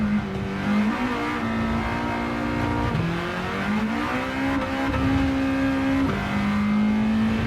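Honda Integra engine in Gran Turismo 7 howling close through a lap, pitch climbing and dropping sharply with each gear change and corner, with faint tire noise and no talk.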